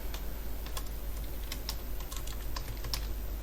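Rapid keystrokes clatter on a computer keyboard while entering an ID in Android app code, a steady close stream of clicks over a constant low hum.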